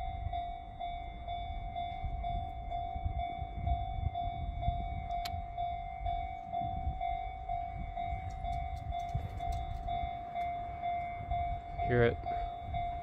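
A train approaching in Fukuoka, Japan, gives a continuous rolling rumble that swells gradually, topped near the end by a short, warbling high-pitched signal.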